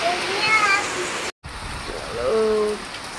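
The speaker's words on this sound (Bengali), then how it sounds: "এত ঝড় হচ্ছে যে বৃষ্টি উড়ে চলে যাচ্ছে" Wind-blown rain in a storm hisses steadily close by, broken by a brief silent gap, with a voice speaking faintly over the downpour.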